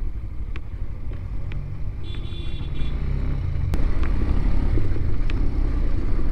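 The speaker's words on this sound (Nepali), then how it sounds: "यो कारलाई पनि तप्नु पऱ्यो क्या" Car passing on a dusty, dry off-road track near Chautara in Sindhupalchok; a low engine and tyre rumble builds and grows louder toward the end, with a few short clicks and knocks scattered over it and no talking.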